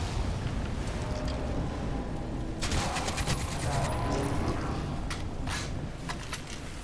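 Gunfire in the game Crysis 2: rapid bursts of shots crackle over a constant noisy background, with clusters of sharp reports coming and going through the stretch.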